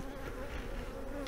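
Young worker honey bees buzz steadily around a hive, a dense close insect drone that holds at an even level with no talking.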